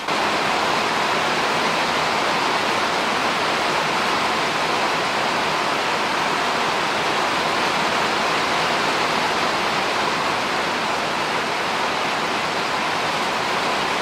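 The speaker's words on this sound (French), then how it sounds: "Il pleut vraiment beaucoup, j'espère que vous allez quand même m'entendre." Heavy rain pours down in a dense, unbroken hiss that stays loud and even from start to finish, with no voices.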